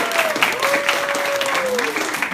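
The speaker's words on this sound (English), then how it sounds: "I love stealing somebody else's applause." Audience at a celebrity roast applauding, a loud wash of clapping from a full room, with a voice speaking briefly over it.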